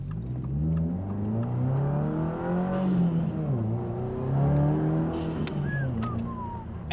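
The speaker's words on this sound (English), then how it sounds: "Let's give the car some gas." Subaru WRX engine revs up and down in repeated swells, loud and close, with a rising whine over the throaty drone and no talking.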